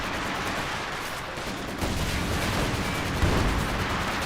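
ZiS artillery barrage in Company of Heroes 2, a dense rumble of shell impacts and gunfire that swells louder partway through and hits a sharp burst near the end.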